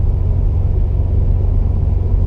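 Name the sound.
Subaru WRX STI car driving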